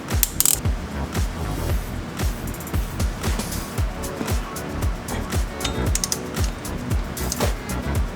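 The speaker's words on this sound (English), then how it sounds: "we just gotta torque it all down" A torque wrench ratchets repeatedly while tightening the clutch pressure plate bolts on a Nissan 350Z, giving a steady series of close, clicking pawl sweeps with no talking.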